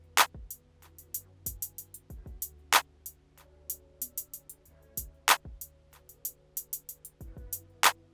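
A sparse programmed beat of kicks, crisp claps and hi-hat ticks repeats at a steady tempo, with quiet sustained tones underneath.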